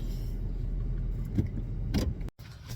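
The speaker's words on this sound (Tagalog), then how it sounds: "Grabe yung bilis ng isang kotse na dumaan sa amin" A fast car speeds past on a road, making a quick rising and fading whoosh over steady traffic rumble, with a softer pass just before it and a brief dropout after.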